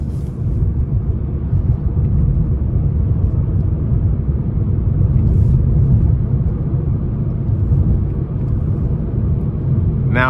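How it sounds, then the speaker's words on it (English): Steady low road rumble fills the cabin of a 2024 Nissan Sentra SR driving a rough back road, a continuous heavy drone with no speech over it. "road noise I feel is a bit more prevalent just going on this rough back road that I'm used to taking"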